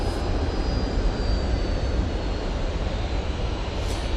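An Embraer jet airliner with Pratt & Whitney engines at Manchester Airport makes a loud, steady engine roar that holds continuously from start to finish, with no voices over it.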